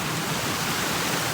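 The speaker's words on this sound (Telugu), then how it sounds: "మళ్ళీ ఇక్కడ వాటర్ పడుతుంది కదా." Heavy rain pours down steadily on a boat trip along the river near Bhadrachalam, a dense, loud, unbroken rush of falling water filling the whole moment with no voices.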